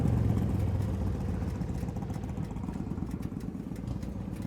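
A Heritage motorcycle engine runs at a steady, low idle, giving a soft, even rumble with a faint mechanical clatter, moderately distant and quiet.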